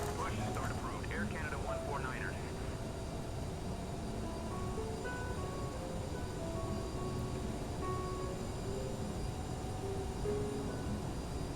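Steady jet engine drone of a CRJ-550 airliner in Microsoft Flight Simulator 2020, a constant broadband hum held throughout with faint tonal whines, under quiet background sounds and occasional cockpit tones.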